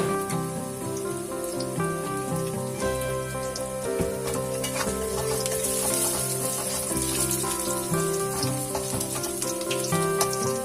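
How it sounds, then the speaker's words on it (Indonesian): Shallots and garlic sautéing in a pan on a home stove, a steady close sizzle and crackle running through without a break, with some clinking of a utensil against the pan over it. "Ini aku tumis-tumis sampai wangi"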